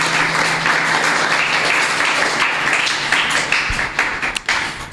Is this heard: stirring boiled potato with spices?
no